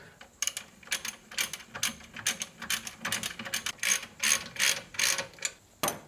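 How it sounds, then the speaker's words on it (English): A ratchet tightens the bolts on a BMW E87 rear shock mount, producing close, crisp bursts of rapid clicking in quick repeated strokes, with no talking. "whack our bolts back in for that bottom bracket. Tighten them up, tighten the top up"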